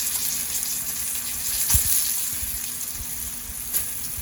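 Pompano fillets frying in a pan, giving a steady close sizzling hiss with a few soft pops and a brief louder bump of crackling midway.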